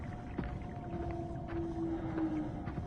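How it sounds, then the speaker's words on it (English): Whale calls in the undersea game SOMA: long, steady tonal moans hold over a low rumbling underwater ambience for several seconds, with faint knocks scattered through, moderately loud and without talk. "It definitely sounds like whales."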